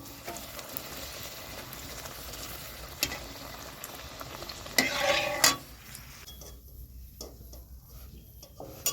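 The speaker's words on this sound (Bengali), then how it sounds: "লুচি ভেজে নিচ্ছি" Luchi (puri) deep-frying in hot oil, a steady soft sizzle with a louder bubbling burst midway as dough hits the oil, then quieter crackle with scattered utensil clicks; no talking.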